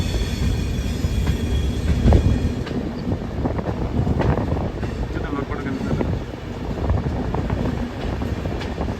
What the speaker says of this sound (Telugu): మన ట్రైన్ కూడా మెల్లగా వెళ్తుంది ఇక్కడ నుంచి.